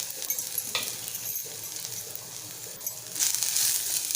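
Grated dry coconut, ginger pieces and minced garlic roast in a pan for a Malvani white pea curry, with a soft continuous sizzle broken by occasional stirring scrapes and light clinks, swelling louder near the end.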